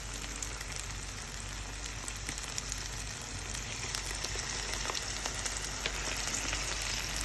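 Masala with curd, egg and paneer sizzles and crackles steadily in a hot pan as it is stir-fried, a dense, even hiss with scattered pops heard close and without talk.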